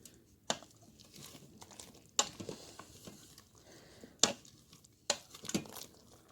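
Stirring cooked food with potatoes inside an Instant Pot: a few sharp utensil scrapes and clanks against the metal inner pot, spaced a second or two apart, with soft rustling between, close and fairly quiet.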